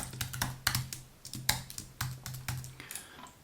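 Rapid clusters of keystrokes on a computer keyboard, close and fairly crisp, with uneven rhythm and short pauses between bursts, alone with no talking.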